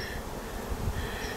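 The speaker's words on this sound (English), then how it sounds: "And the little ones are all the little female worker bees." Small female worker honey bees crawl over a hive frame, giving off a soft, even buzzing that holds steady throughout, with no speech over it.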